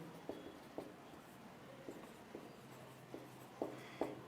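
Chalk or marker writing the scale for x and y axes on a board during a linear-equations lesson: a handful of faint, short tapping strokes spaced irregularly over a quiet room, with no speech.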